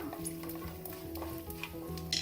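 Dry red chillies fry in hot oil for a tempering, steady sizzling with light stirring and scraping sounds on top, close by and moderately loud.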